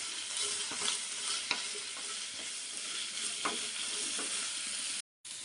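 Okra fries in a pan with turmeric and salt, giving a constant close sizzle broken by a few stirring scrapes before a brief cut to silence.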